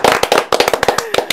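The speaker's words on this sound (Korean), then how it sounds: "우리 조기현 의원님께서 제일 열심히 박수 치시네요" Studio applause of a small audience on a Korean talk show, a rapid burst of loud, close, crisp hand claps in quick irregular succession.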